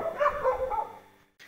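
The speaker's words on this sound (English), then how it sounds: "tell you more when there will not be those dogs barking" Dogs bark near a bus station in Brasov, Romania, in a short run of close, yappy barks over about a second, then fall quiet.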